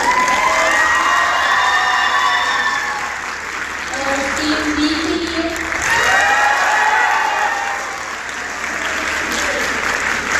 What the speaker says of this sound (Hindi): सो टीम ए के लिए तालियां बजाइए